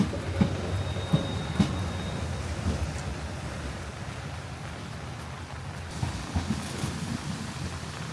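A train rumbles past on a single-track railway in the rain, a steady low roar with occasional clunks and rattles, mixed with a hissing wash like rain.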